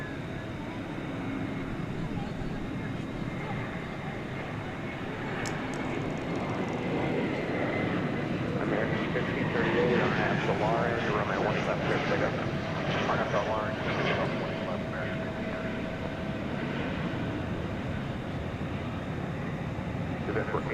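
An airliner roars in on approach to land at Dallas/Fort Worth Airport at night, a loud sustained engine rumble swelling and fading, heard alongside a voice and radio chatter.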